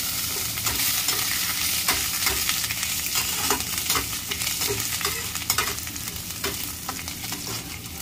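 Chopped ginger sizzles in hot oil with cumin seeds, dried red chili and bay leaf, a steady close crackle broken by repeated scrapes and clicks of a spatula stirring the pan.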